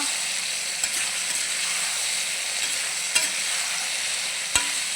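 Drumstick and tomato curry stirred in a pan, giving a steady bed of soft sizzling with a few sharp spoon clinks against the metal, no voices.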